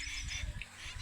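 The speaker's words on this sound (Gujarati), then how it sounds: "લેલી નામનું પક્ષી બોલે, લેલી." A lelli bird, a babbler, gives a brief call lasting about a second, heard moderately close amid a steady rushing outdoor background.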